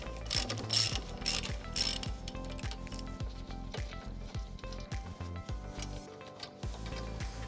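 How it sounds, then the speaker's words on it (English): A ratchet wrench loosens the lower ball joint nuts on a car's control arm, a fast run of close, loud mechanical clicks in steady bursts with brief pauses, without talk. "We'll start off by removing the lower ball joint nuts first."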